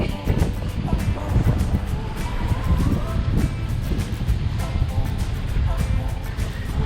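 Cold, gusty wind buffets the microphone at an outdoor fishing spot, a rough continuous rumble with crackling bursts throughout, and someone talks beneath the roar.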